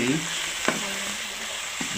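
Crushed onion frying in a pan for an Assamese local chicken curry: a steady, close, dense sizzle throughout, with a couple of brief stirring scrapes.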